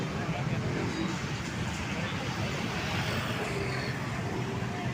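Vehicles move through busy street traffic at a jeepney queue, a steady low roar of engines and road noise with people talking in the background.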